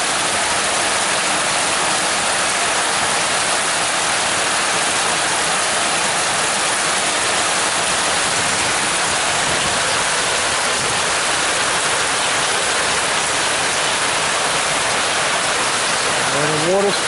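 Heavy rainstorm with water flowing and pumps running, a dense, loud, steady wash of broadband hiss that continues unbroken from start to finish.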